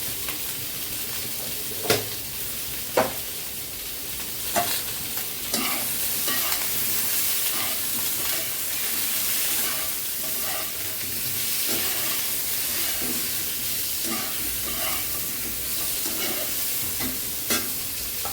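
Vegetables and spices sauté and sizzle in hot oil in a pan for a katla fish curry with red amaranth stems and jackfruit seeds, with a steady frying hiss and several sharp clinks of a utensil stirring against the pan.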